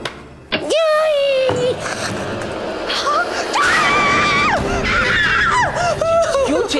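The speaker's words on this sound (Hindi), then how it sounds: "क्यों चिल्ला रही हो?" A woman screams loudly in a Hindi comedy series scene, shrill rising and falling cries stretching across several seconds amid noisy background sound and brief vocal bursts.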